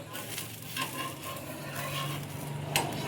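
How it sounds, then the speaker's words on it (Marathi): Dosa batter sizzles on a hot pan, a steady close frying hiss with occasional scraping and light metallic clicks of a utensil against the pan. "अशा प्रकारे आपण डोसा बनवतोय."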